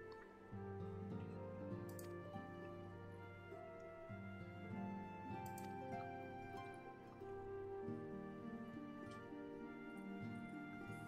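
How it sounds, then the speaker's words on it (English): Tea is poured as a sound effect in Final Fantasy XIV, a soft trickling pour with light drips heard under steady layered game music with sustained tones throughout. "you can actually hear the sound effect of her, you know, pouring you tea"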